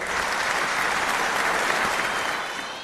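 Steady, dense applause from a large audience greeting a poet taking the stage at an Independence Day special debate event in Tamil Nadu, continuous and loud throughout before easing slightly at the end.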